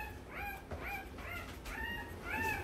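XL American Bully puppies from a twelve-pup litter whimper close by, a rhythmic run of about five high, wavering whines over a low background rumble.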